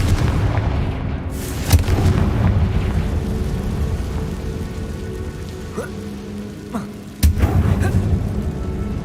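A Confringo explosion spell in the Hogwarts Legacy video game: a few booming blasts over a continuous rumbling, rain-like background roar, fairly loud and close.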